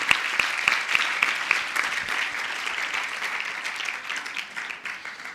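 A worship congregation at a youth camp session claps together, starting with a few sharp, evenly spaced claps that dissolve into dense, sustained applause filling the room, with no talk over it.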